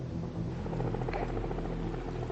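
Rescue helicopter heard steadily throughout, its rotors giving a continuous low throbbing drone at moderate distance with no voices.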